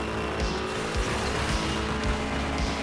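Race car engine roaring steadily in Asphalt 9 on Nintendo Switch, a loud continuous drone with repeated low thumps and light tire squeal throughout, no voices.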